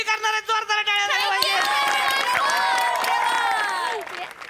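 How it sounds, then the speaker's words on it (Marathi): Studio audience at a Marathi comedy show bursts into loud, sustained applause and cheering that swells after a brief opening and holds steady before fading, with voices mixed into the crowd noise. "जोरदार टाळ्या झाल्या पाहिजेत"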